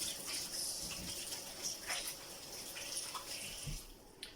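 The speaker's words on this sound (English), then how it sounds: "Let me wash the hands because they're full of oil." Running tap water pours steadily over hands being washed clean of oil in a kitchen during focaccia baking, a soft continuous gush with faint splashes and no talk.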